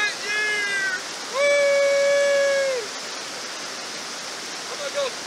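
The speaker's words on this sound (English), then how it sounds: "Hey, Michelle, when you get time, come on down to the beautiful Spring River." The Spring River flows with a constant broadband rush outdoors, while a person's whooping, sung calls rise above the steady water noise.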